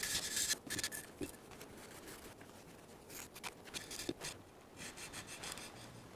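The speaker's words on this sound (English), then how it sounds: "I'm going to use a sanding block to take the sharp edges off of each" Quiet scratchy rubbing of a sanding block over small parts of a 1/100 scale Saturn V rocket model, in short irregular strokes, close up with no talking.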